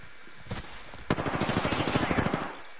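Automatic weapon fire in the battle royale game Apex Legends, a rapid rhythmic burst of close, loud shots lasting about two seconds after a couple of single cracks.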